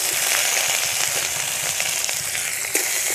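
Ginger, garlic and onion sizzle in hot oil in a wok, a loud, close, continuous frying hiss with occasional pops and light stirring and no voices.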